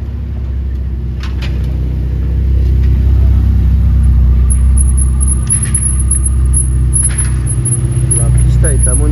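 A Ferrari Pista supercar arriving at the Fairmont in Monaco, its engine giving a deep, loud, sustained rumble that swells and stays steady, with faint street noise over it.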